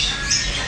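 A parrot squawks in a pet shop: one loud, harsh, shrill call held for under a second, close by and standing alone with no talk.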